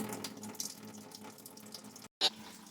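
Fluid drains from the radiator of a 1967 Camaro in a steady, faint trickle. A brief gap and a sharp splash or clink come near the end.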